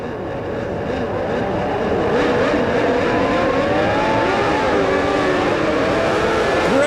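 Formula 1 cars at the 1994 Hungarian Grand Prix start rev hard and accelerate away together. A loud, dense wall of high-pitched engine whine rises and overlaps as the pack pulls off the grid.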